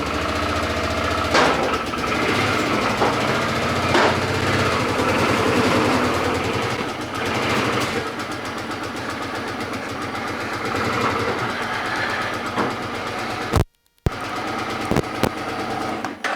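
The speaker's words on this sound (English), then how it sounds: "start the bloody bike up" A motorbike engine fires up and keeps running with a rapid, steady, rough putter, loud and close, broken by a brief cut near the end.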